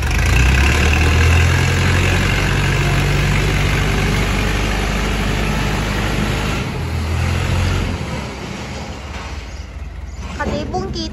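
A Komatsu JH30B wheel loader engine idles with a steady low rumble that dips briefly toward the end, close by, while someone speaks over it.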